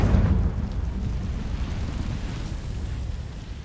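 A Confringo blasting spell goes off as a heavy, rumbling explosion that swells at the start and then settles into a long, low, roaring decay, loud and close, with no one speaking.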